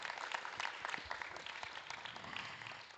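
An audience at a regional meditation leaders' conference claps in a brief, faint, continuous burst that sounds distant and lasts about three seconds.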